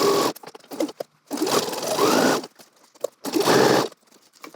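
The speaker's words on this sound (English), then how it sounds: "stitch not down the side seam to close off the pocket, but actually around the pocket bag to the second dot, pivot again, and continue downwards." A sewing machine stitches around the pocket bag of a gathered dress, running in loud whirring bursts separated by short pauses while the fabric is pivoted.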